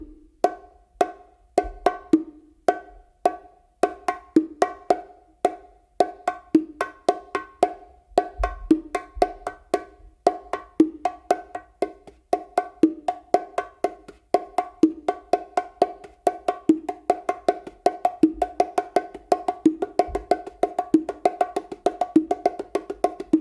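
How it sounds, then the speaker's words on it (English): Bongos play a martillo pattern: sharp open slaps and hits alternate with soft ghost-note finger taps in a brisk, continuous rhythm. The drums are close and dry, with no talking. "this is what a martillo kind of sounds like."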